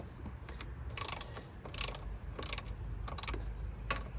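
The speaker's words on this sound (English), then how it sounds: "So I think I'll loosen up the bolts that hold the fuse box in" A ratchet wrench loosens 10mm bolts holding the fuse box on a 2011 Ford Fusion 2.5L, giving repeated bursts of quick metallic clicking in an uneven rhythm, close by.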